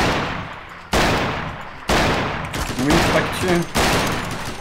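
Loud rapid-fire gunfire bursts crack out in Garry's Mod, several separate volleys in a row, while a player speaks briefly between them.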